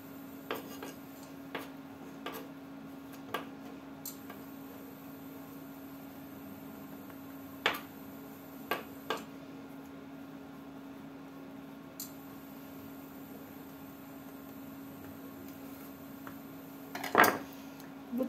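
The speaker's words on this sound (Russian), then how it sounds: "И вот так ножом формирую." A knife taps and scrapes against a plate or board while shaping syrniki, cottage cheese patties, in a quiet kitchen, with scattered faint clicks, a steady hum and a louder clatter near the end.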